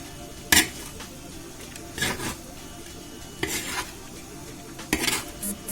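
A spoon scrapes through vegetable rice in a pot about four times, each brief clattering stir separated by quiet gaps of roughly a second.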